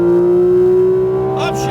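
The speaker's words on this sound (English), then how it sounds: "Turn to the left, add a little throttle, and now full throttle out." Porsche GT3 RS engine at full throttle, a loud steady high-pitched wail climbing slightly before a brief break as a voice starts speaking near the end.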